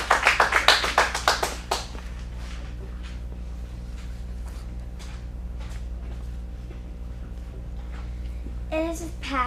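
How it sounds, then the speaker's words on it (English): A short burst of audience clapping and cheering for Maggie after her Legally Blonde monologue at a kids' acting showcase in Phoenix, loud for under two seconds, then fading into quiet room noise with some talking. "Let's give her a round of applause."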